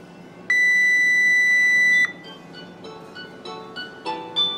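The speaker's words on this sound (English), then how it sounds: "oh, my phone's ringing." A mobile phone rings close by on a workbench during repair of a Yaskawa Servopack SGDB-20VD servo drive: a loud steady electronic tone lasting about a second and a half, then softer melodic ringtone notes rising in short bursts.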